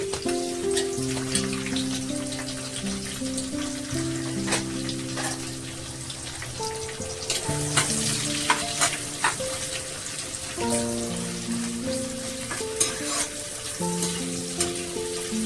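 Finely chopped onion fries in oil with cardamom and a bay leaf, giving a steady crackling sizzle and occasional stirring scrapes under background music, with no talk.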